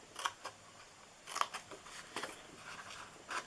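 Scissors make sharp, faint snips as they cut into paper for a gingerbread Christmas cookie treat box, in a handful of separate cuts spaced about a second apart.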